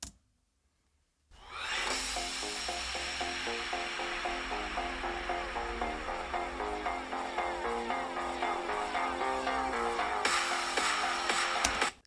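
Music played through the 2 by 2 watt downward-firing speakers of an Alienware 16X Aurora laptop, starting after a brief silence and continuing as a steady, dense, fairly loud stream with a bright, thin tone.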